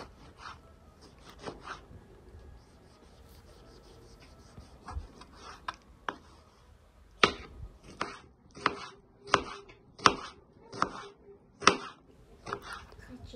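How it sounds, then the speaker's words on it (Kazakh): Fresh tomato chopped with a knife on a board, a sparse start giving way to a run of sharp, evenly spaced close chops, with faint voices in the background. "Сосын свежий помидор. Оны да осылай турап аламыз."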